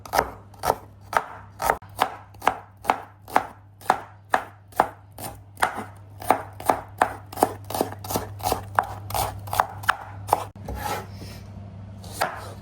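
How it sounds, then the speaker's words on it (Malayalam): A knife chopping vegetables such as green chillies, tomatoes, garlic and onions on a board for fish biryani, with steady crisp cuts in a quick regular rhythm, loud and close, and no voices. "ഓക്കെ വെജിറ്റബിൾ കട്ട് ചെയ്യുന്നത്"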